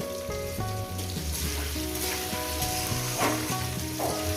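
Salted potatoes fry in a pan for a poppy-seed curry with drumsticks, giving a bright continuous sizzle and spatter under a loud layer of tonal music, with no speech.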